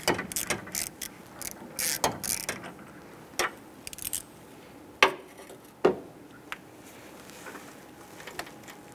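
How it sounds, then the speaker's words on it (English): A ratchet with a 15/16 deep socket and extension loosens an A/C pressure switch on a 2008-2013 Nissan Rogue, giving quick bursts of close pawl clicks followed by a few sharp isolated clacks and sparse faint clicking. "Using a 15/16 deep socket extension and a ratchet, let's go ahead to the top of that unit here. Let's loosen that."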